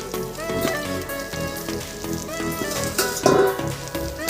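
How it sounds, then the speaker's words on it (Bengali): Taro stolons with prawns sizzling and simmering in a covered pan for a Bengali traditional dish, giving a steady, fairly loud crackle and bubbling hiss throughout, close up, with no talk. "বেশ কিছুক্ষণ ফুটিয়ে নেবো ভালোভাবে।"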